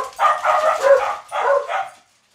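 Dogs in a home kitchen barking in a quick series of close, loud barks and yips, in two bursts before falling silent.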